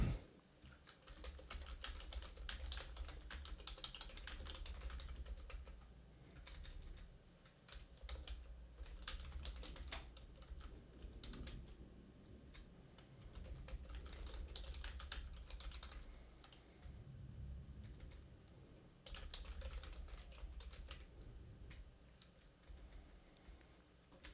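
Fast, uneven typing on a computer keyboard at a storm-coverage desk, a steady stream of light clicks in bursts with brief pauses, quiet and close, no voices.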